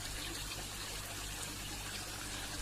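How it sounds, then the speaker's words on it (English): Water running as a thin film over a serrated rock cascade on a small pond water feature, a steady close trickle and splash with no pauses and no voices. "thinning the water out into a very thin film and moving it across a serrated rock surface"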